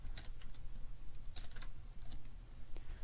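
Computer keyboard keys clatter in a quick irregular run of taps, close and moderately loud over a low steady hum, with no one speaking.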